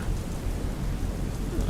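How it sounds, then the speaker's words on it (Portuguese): Steady heavy rain pours outside with a deep rumbling thunder underneath, a dense continuous wash of sound without any voices. "Foi então que ele percebeu que estava chovendo lá fora"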